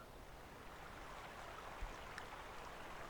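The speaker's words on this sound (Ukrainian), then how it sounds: "Кришталева вода стрімко біжить між камінчиків." A Carpathian mountain stream runs over small stones, a soft continuous broadband wash of flowing water with faint occasional trickles, quiet and unbroken with no voices.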